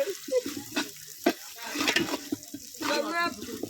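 Ginger paste goes into a frying pan of shing fish, giving sizzling and stirring bursts at moderate volume mixed with nearby voices talking.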